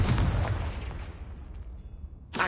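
A Confringo blasting spell bursts in the Hogwarts Legacy video game, a loud, booming explosion at the start that rumbles and fades over two seconds, followed by a sharp new burst at the very end.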